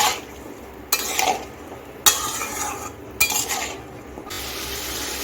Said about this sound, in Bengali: আদা আর সর্ষের পেস্টটা একটু জলে গুলে নিয়েছি আমি দিয়ে দিচ্ছি দুটোকে একটু নেড়ে চেড়ে একের থেকে দেড় মিনিট কষিয়ে নিচ্ছি